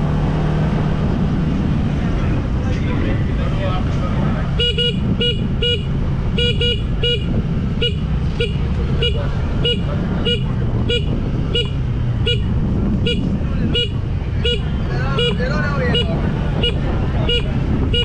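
Car horns honk repeatedly in dense traffic in Tongue, short rhythmic beeps over a continuous loud engine rumble, with several horns overlapping near and far.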